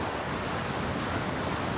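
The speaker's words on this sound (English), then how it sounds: "I have the gorgeous ocean behind me" Steady broadband roar of ocean surf rolling in close behind, with some wind noise on the microphone and no talking.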